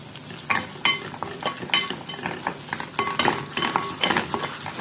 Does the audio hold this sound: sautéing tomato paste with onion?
yes